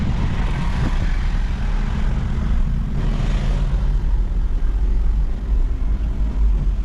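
Interior drive of a 4th-generation VX car, a steady low engine and road rumble throughout with a faint swell of wind or passing noise midway, no talking.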